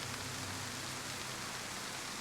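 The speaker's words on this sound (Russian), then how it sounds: "сижу под кустом, жду, когда дождь закончится" Steady rain in the video game DayZ, a dense, even hiss of falling drops that fills the scene without pause, with no voices over it.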